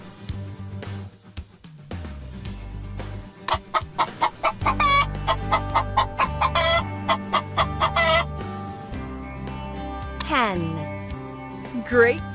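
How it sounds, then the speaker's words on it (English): A hen clucks in a rapid series of short, close, sharp clucks that build into a burst and end with a drawn-out squawk, over light background music. "Hen."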